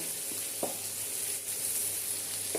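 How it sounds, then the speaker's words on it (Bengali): Cumin, coriander and red chilli powder stirred in hot oil for a mixed vegetable curry, a steady close sizzle with a few soft scrapes of the spoon. "দিয়ে মশলাগুলো একটু এই মাঝখানটাতেই তেলের মধ্যে নেড়ে নেব"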